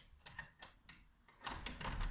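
A room door being unlocked with its key, a few faint metallic clicks and ticks spaced apart, then a louder rattling scrape as the latch releases, close up and quiet with no voices.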